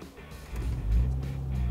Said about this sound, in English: let's go ahead and fire up the car